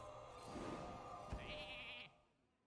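Sheep bleat from the Polymorph spell in the Hearthstone card game, a single quavering cartoon bleat sounding alone over faint game background audio.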